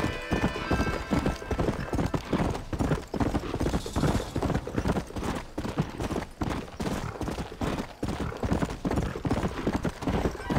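In Red Dead Redemption, a horse gallops at full pace with dense, rhythmic hoofbeats that stay loud and close throughout, with occasional neighs breaking in.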